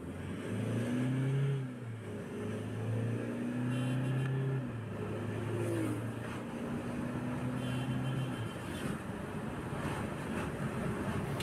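A 2020 Toyota Hilux with check engine and traction control lights on, engine droning as it accelerates, with rising tones climbing and shifting through gears, then fading into road and wind noise from inside the cab.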